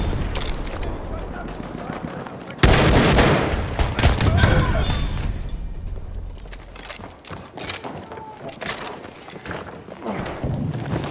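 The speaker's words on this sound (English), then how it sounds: "Enemy machine gun!" Gunfire crackles through a World War I battle in the video game Battlefield 1 on the Suez map, with dense, rapid bursts that start abruptly and continue loud and near, then thin into scattered shots.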